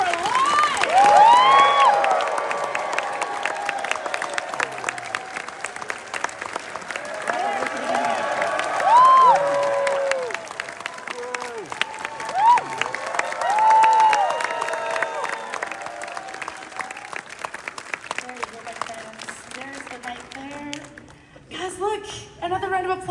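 A fan expo audience claps and cheers for Christopher Lloyd taking the stage, long rolling applause with whoops and shouts swelling and easing in waves, while voices call out over it.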